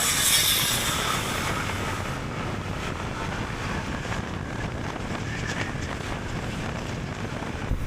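Wind buffets a microphone outdoors along a hilly roadside, a steady broadband rush with gusty swells, loudest at the start and then holding a constant roar, with no voices.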